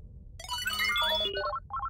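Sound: phone message notification tone in a cartoon

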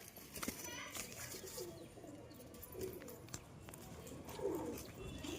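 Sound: pigeons cooing

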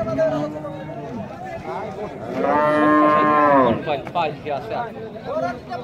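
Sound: cow mooing

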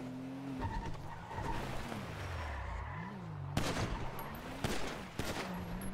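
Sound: gunshots in a GTA roleplay video game

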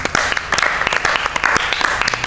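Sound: audience applause

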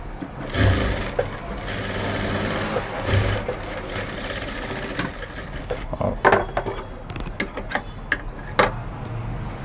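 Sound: sewing machine stitching piping onto straight fabric

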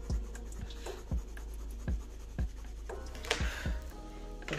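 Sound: oil-based colored pencil coloring on paper

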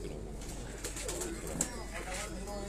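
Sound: Heera laal pigeons cooing

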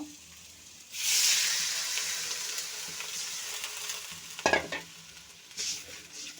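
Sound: water added to frying spinach curry, sizzling and stirring

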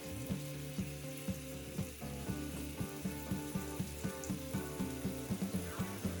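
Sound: fish frying in a pan

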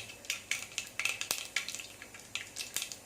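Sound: mustard seeds spluttering in hot coconut oil

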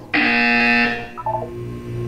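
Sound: buzzer sound in the video game Portal 2

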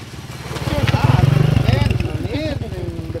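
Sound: motorcycle passing by

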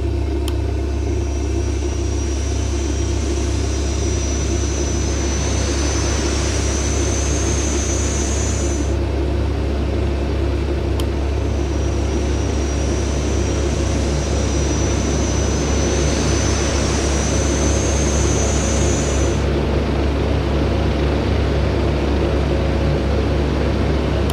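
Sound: Saab 340B turboprop engine startup, flight simulator

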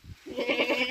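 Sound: goat bleating

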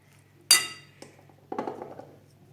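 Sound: stirring mung bean salad with garlic sauce in a bowl

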